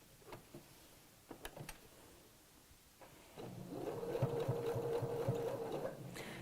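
A sewing machine tacks a fabric loop onto a vintage-style pocket, starting after a few faint clicks and handling noises, then running in a steady, quiet whirring burst of stitches for about three seconds.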